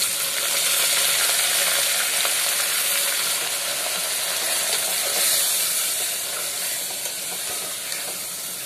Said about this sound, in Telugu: ఈ వేగిన ఉల్లిపాయలలో వేసి లో ఫ్లేమ్లో పట్టుకుని చక్కగా వేగనివ్వండి